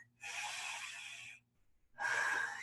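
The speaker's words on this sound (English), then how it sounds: "I'm gonna take a big, deep breath." Two big, deep breaths during a pelvic floor exercise demonstration: a long airy inhale, a short pause, then a second strong breath. Both are close and clear, with no talking.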